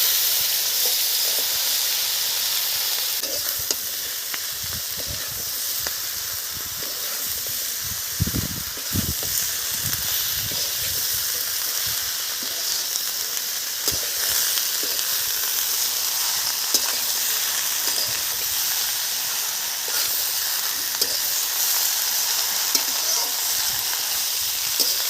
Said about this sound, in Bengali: এখন আমি শাক তুলে দেব।